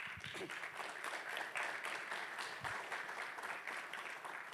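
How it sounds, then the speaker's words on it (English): A conference audience at a tech event in San Francisco breaks into sustained applause, a dense wash of clapping from many hands that holds steady for several seconds without talk over it. "Please give them a big round of applause."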